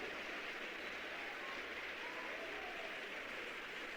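A church congregation applauds in a steady, sustained wash of clapping that fills the whole stretch at moderate, even loudness.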